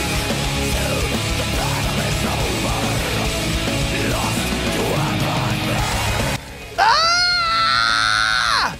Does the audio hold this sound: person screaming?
yes